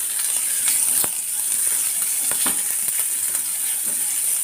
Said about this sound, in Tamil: வெங்காயத்தை நல்லா வதக்கிடுவோம்.